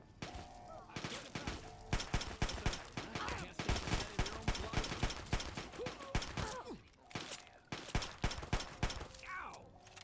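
Repeated gunfire from Fallout 3 rings out in quick bursts and single shots over about ten seconds, with a voice speaking briefly between the shots.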